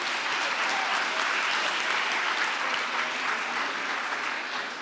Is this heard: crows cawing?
no